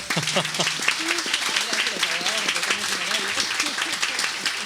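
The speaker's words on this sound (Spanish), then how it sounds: "Un aplauso para estos panelistas." Audience applause for panelists at a panel on legal frameworks for digital health, a continuous clapping wash with voices talking over it throughout.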